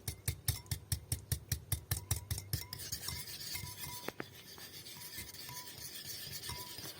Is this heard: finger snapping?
no